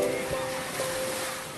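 Ocean waves wash onto a beach in a continuous broad hiss and roar, with faint tonal murmurs mixed into the surf.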